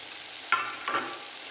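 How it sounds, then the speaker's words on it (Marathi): Steamed ridge gourd dropped into oil-glossed masala frying in a pan, with a soft clatter as it lands, then a second scrape of stirring over a steady low sizzle, close and fairly quiet. "तेल सुटल्यावर त्यामध्ये आपण वाफून घेतलेला दोडका टाकायचा आहे"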